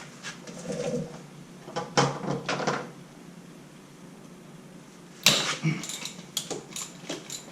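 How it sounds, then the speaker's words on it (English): Ratchet working starter bolts loose on a 2003 Harley Softail, bursts of quick clicking with a metallic clank, separated by a quiet gap, close by. "Let's get these two starter bolts out and then this primary will be off."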